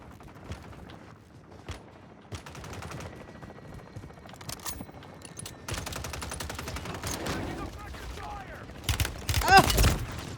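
Video game gunfire, with rapid automatic bursts and single shots, some distant and some close, building to a loud, heavy volley near the end while players talk over it.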